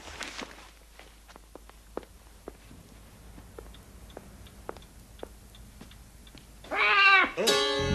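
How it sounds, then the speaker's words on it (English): A cat gives a loud, close, drawn-out meow near the end, after a stretch of soft regular footsteps and small ticks in a quiet room. "I didn't know you had a cat"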